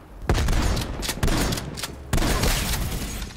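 Three loud, booming shotgun blasts from a video game ring out about a second apart, each trailing off in a short echo with no talk.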